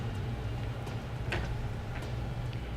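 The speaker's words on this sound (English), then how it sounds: "We use our included tool in conjunction with our 5/16 socket wrench." A 5/16 socket wrench ratchets while tightening the rear base rail of a Thule TracRac SR sliding ladder rack into a truck bed, giving a few faint, irregular clicks over a steady low hum.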